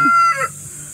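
A six-month-old Buff Orpington rooster crows once near the start, a short loud call with a harsh rising onset that quickly fades, leaving a quiet farmyard background.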